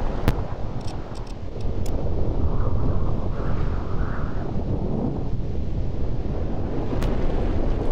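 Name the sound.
storm wind in the video game Fallout New Vegas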